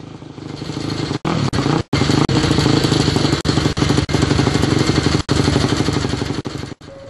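A Neatafan Minimono Supermono single-cylinder racing motorcycle at Brno, Czech Republic, roars loud and close with a rapid, rough thumping beat, broken by several sharp cut-outs and sudden dips as the engine misfires.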